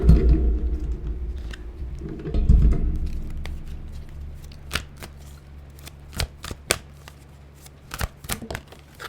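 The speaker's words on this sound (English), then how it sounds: "What other cards am I pulling here? Let's pull these." Tarot cards are shuffled and pulled by hand: a couple of soft thumps and rustling at first, then a run of crisp, close card snaps and flicks coming in quick irregular bursts.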